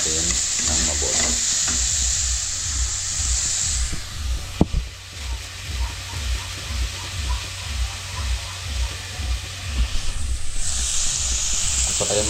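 Pork afritada with carrots and potatoes stirred in a pan, a loud, close hissing sizzle running steadily throughout, with repeated scraping strokes and the clatter of the spoon; no speech.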